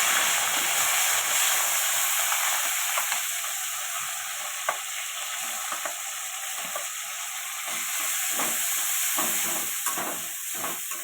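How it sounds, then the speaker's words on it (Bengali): Onion paste with dried chillies and whole garam masala frying in a pan, a dense, steady sizzle and hiss up close, later marked by a run of quick spatula scrapes, no voices. "এটা ভালো করে কষিয়ে নেব।"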